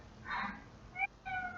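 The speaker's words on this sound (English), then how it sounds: "that's my cat uh, meowing" A pet cat meows twice indoors, the first a broad drawn-out cry and the second a shorter, clearer call after a brief gap, both fairly faint against a quiet room with no talking.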